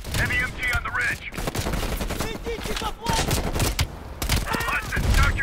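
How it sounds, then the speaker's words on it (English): Heavy machine gun fire on a ridge in the Call of Duty Cold War video game, loud, dense sustained bursts layered with explosions and battle noise, with brief voices mixed in. "Heavy MG on the ridge."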